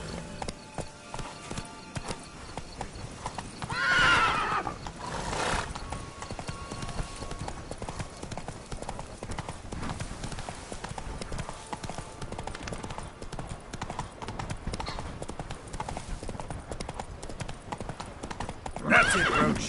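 Roach, a horse in the video game The Witcher 3, gallops with a steady rapid clip-clop of hooves, broken by a loud neigh near the start and another at the end, with no talk.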